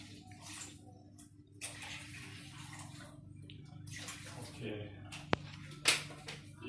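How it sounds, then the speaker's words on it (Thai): Roughly 500 ml of water pours into a pot for instant Dongwon tteokbokki, giving several uneven bursts of splashing and gurgling over a low background hum. "ใส่ น้ำประมาณ 500มิลลิลิตร500มิลลิลิตรก็ เกือบเกือบขวดหนึ่งนะครับ"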